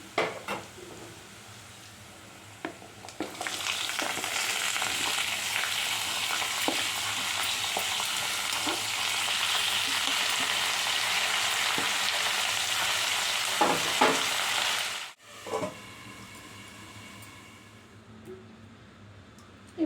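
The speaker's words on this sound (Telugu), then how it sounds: "ఉల్లిపాయ బాగా వేగిపోయింది రెండు మిర్చి అయితే వేసాము ఇప్పుడైతే ముల్లంగి వేసుకుందాము" Onion, green chillies and radish fry in a pan with a steady, loud sizzle that carries on for about twelve seconds. Occasional stirring scrapes and clinks sound against the pan, then the frying cuts out abruptly and comes back quieter near the end.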